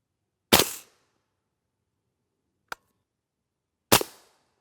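Two loud, sharp rifle shots firing M80A1 and black tip rounds, a few seconds apart, each with a brief decaying tail, and a fainter short crack between them.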